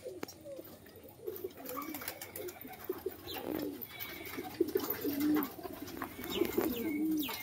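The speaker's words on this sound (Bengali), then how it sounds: "দেখুন পায়রাগুলো দেখুন কত সুন্দর, সব জাতের পায়রা আছে মোটামুটি" Pigeons of many breeds kept in a loft coo repeatedly, with soft overlapping throaty calls at close range and occasional faint chirps and rustles in the background.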